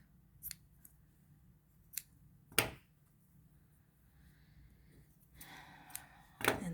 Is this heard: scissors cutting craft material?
yes